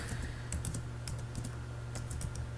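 Quick bursts of typing on a computer keyboard, close and clear, with irregular clusters of key clicks over a low background hum.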